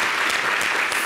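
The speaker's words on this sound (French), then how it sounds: "Applaudissez-moi." Brief burst of TV studio audience applause on a talk show set, loud, dense and even clapping that fills the whole short moment.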